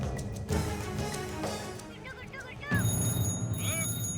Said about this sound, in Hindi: तो भैया फोन भी नहीं ले गए यार। ये साला यही घनघना रहा है।